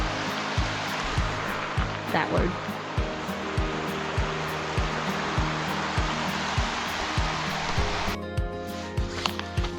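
Steady rushing water from a creek on a national park hiking trail fills the clip, with regular low thumps underneath and a brief voice near the middle.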